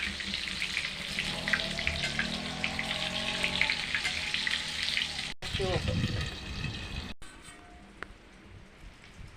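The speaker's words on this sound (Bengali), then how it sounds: "আস্তে আস্তে আস্তে ভাজি" Brinjal frying slowly in a pan gives a steady close sizzle with a voice talking over it, then a brief pause, and a fainter, thinner sizzle continues afterward.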